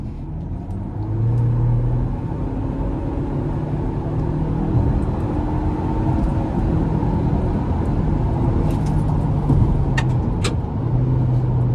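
A 2026 Ford Ranger Lariat FX4 pickup accelerates onto an interstate, its engine rising as a steady loud rumble heard from inside the cab, with rising pitch sweeps and road noise.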